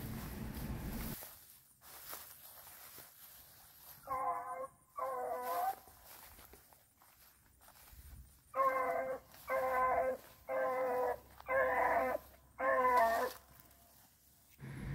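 Beagle rabbit dogs baying at an outdoor NKC field trial finals, with two short bursts of bawling and then five steady, rhythmic rounds of howling, fairly close and loud between quiet gaps.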